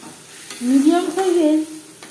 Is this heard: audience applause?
no